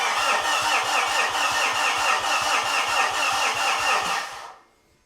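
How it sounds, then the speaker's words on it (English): A Mitsubishi Fuso FG truck's starter cranks the diesel engine in a fast, even chugging rhythm for about four seconds, loud and close, then cuts off abruptly without the engine catching. "I'm going to give it a try cranking."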